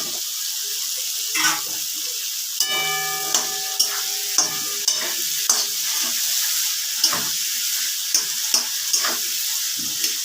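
Potatoes sizzling in hot spiced oil in a pan while a spoon stirs them, a steady loud fry hiss close up with repeated scraping and clinking strokes at a regular pace.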